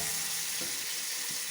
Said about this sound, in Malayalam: തക്കാളി, കറിവേപ്പില എല്ലാം കൂടെ ചേർത്ത് വഴറ്റാം.